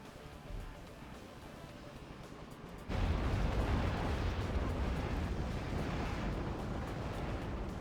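Excalibur artillery shells exploding in the real-time strategy game Act of Aggression, a sudden loud roar of blasts that sets in partway through and stays as a dense, rumbling barrage over a quieter battle ambience.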